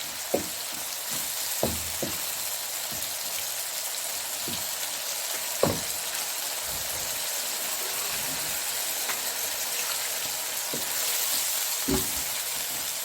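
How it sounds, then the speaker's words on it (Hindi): Chicken jalfrezi sizzles steadily in a pan after about half a cup of water is added, a continuous close frying hiss with a few sharp pops and spatters and no talking. "तकरीबन ½ कप पानी, ताकि ये चिकन अच्छी तरह मेल्ट हो जाए।"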